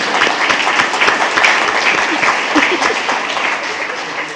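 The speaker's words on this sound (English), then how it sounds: "I thought it was deserving of an applause." A room full of people at a board meeting claps steadily for several seconds, the applause gradually thinning toward the end.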